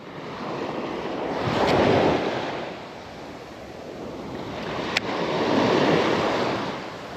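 Ocean surf rolls onto a beach in two broad swelling washes, a loud close roar rising and fading with wind buffeting the microphone and one brief knock between the waves.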